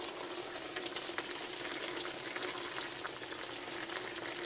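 Liquid is poured into chili meat frying in a pan, giving a steady close sizzle and crackle with a faint splashing hiss underneath. No one speaks.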